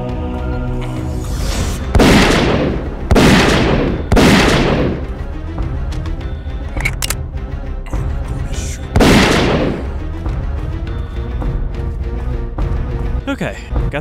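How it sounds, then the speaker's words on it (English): Several loud booming gunshots from enemies in the video game Zeno Clash, some musket fire among them, in an irregular volley of about five blasts over game music, with a person talking through it. "Alright, now they're both trying to shoot me."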